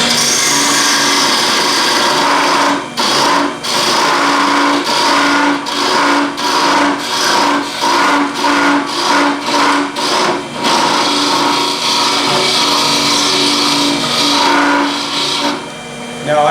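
Power sanding of a small wooden refrigerator magnet nub, a steady whirring drone with a string of brief dips and surges as the piece is pressed against the sander, close and loud throughout.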